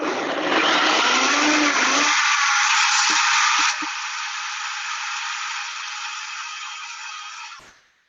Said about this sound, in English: So putting that on the blender, and it's going to be kind of loud.